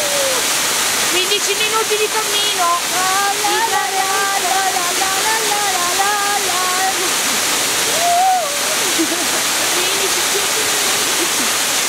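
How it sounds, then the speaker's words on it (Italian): A waterfall roars close by in a loud, constant rush of falling water, while several people talk and call out over the steady noise. "C'è una super cascata là!"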